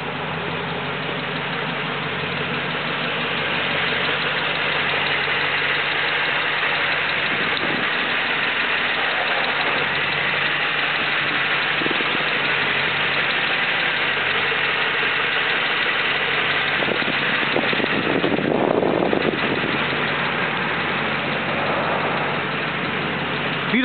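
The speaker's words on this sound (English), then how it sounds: "221 cubic inch L-head V8 engine, Stromberg two-barrel carburetor" A 1939 Ford Deluxe Tudor sedan's 221 cubic inch L-head V8 with a Stromberg two-barrel carburetor idles steadily and close by for the whole stretch, a continuous low rumble with a brief rise near the end.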